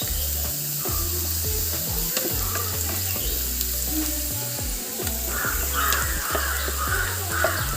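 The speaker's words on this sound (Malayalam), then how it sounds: "ഇനി അല്പം കറിവേപ്പില ഇട്ട് കൊടുക്കാം" Curry leaves crackling and sizzling in hot oil while making a mango, ginger and bird's-eye chili pickle, a steady loud frying hiss with spitting pops throughout, and a crow cawing repeatedly nearby.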